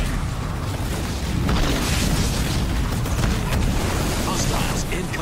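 Continuous heavy shelling booms and rumbling blasts roll without letup in Halo Wars 2 combat, loud and dense, with game voices buried in the noise.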